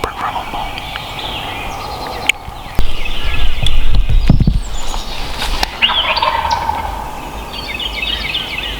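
A wild turkey gobbles in short bursts against steady outdoor background noise, with a few sharp knocks and faint bird calls in between.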